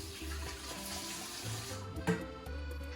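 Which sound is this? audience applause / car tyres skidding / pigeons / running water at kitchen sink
running water at kitchen sink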